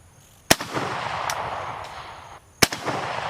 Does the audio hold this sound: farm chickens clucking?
no